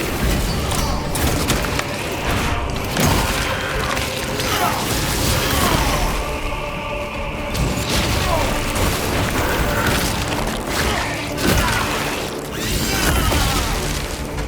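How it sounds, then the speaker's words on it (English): Melter weapon fire in Warhammer 40000 Space Marine 2 roars through a dense, chaotic battle mix, with loud sustained blasts, booms and crashing debris, and game voice lines mixed in. "Melter fire will cauterize and fuse their tunnels shut"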